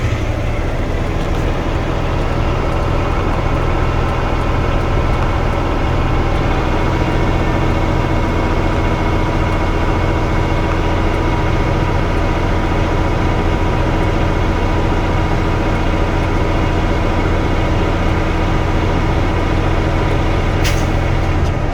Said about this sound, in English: We'll build our air up to maximum pressure.